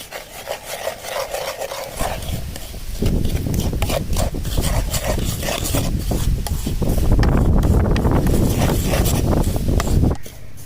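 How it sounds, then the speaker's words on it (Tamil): Semolina (rava) roasting in ghee in a pan for rava laddu, with a steady close scraping and rubbing of a spoon stirring the grains, loud and continuous with no talk. "கொஞ்சோள அளவுக்கு நெய் ஊற்றி ரவையை அழகாக வறுத்து எடுத்துக்கலாம்"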